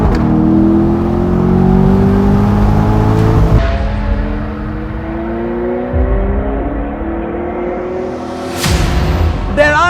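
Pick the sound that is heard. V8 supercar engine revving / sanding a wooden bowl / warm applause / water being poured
V8 supercar engine revving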